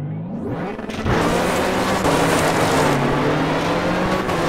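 A rally car engine accelerates hard in Richard Burns Rally, its loud, close roar rising steadily in pitch through the gears, with no voices over it.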